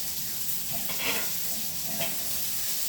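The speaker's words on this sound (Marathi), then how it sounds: "फोडणी घालून कांदा आणि गवार आपण याच्यात फ्राय करत आहोत." Onion and cluster beans frying in a hot oil tempering, a steady close sizzle with a couple of soft stirring scrapes on top.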